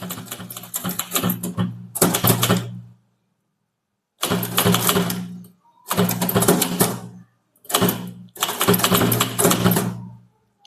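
Rapid clattering keystrokes on a Tamil typewriter in bursts of a second or two, separated by short silences, with a carriage-return thunk ending some runs; close and loud.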